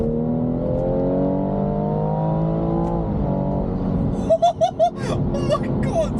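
BMW with a stage 1 tune pulling hard at full throttle, the engine note rising steadily in pitch under load before a gear change. Engine sound fades into excited voices at the end.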